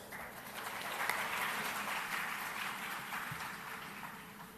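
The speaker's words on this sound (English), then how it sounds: "Let us give a round of applause." An indoor audience at a Global Entrepreneurship Week launch event in Sri Lanka breaks into a few seconds of steady, moderately distant applause after a keynote speaker is introduced.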